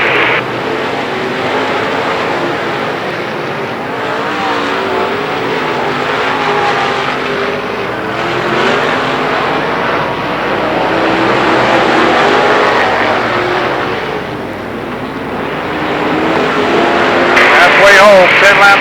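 Late model stock cars, including a Ford and a Pontiac, roar continuously around Lernerville Speedway, engine drone swelling and fading as they pass, while an announcer talks over the racing throughout.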